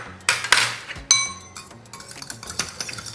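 Coconut vinegar vinaigrette stirred in a dish, with sharp clinks and scrapes of a utensil against the bowl and a few ringing taps, close and irregular, no speech.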